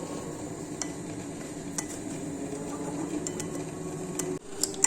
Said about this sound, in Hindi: जी हम इसमें काफ़ी सारा बीट कर लिया